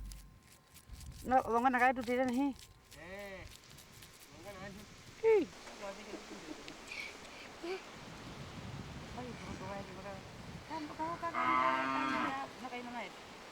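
Cattle low in a few deep, drawn-out moos near the start, herded to dug wells in a dry riverbed in the Skeleton Coast desert, followed by wind and rustling outdoors.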